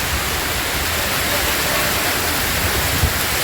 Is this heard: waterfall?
yes